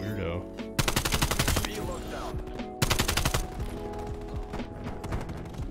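Rapid automatic gunfire from Call of Duty: Cold War, loud sustained bursts with a brief pause between two heavy volleys, then lighter continued shots and clatter.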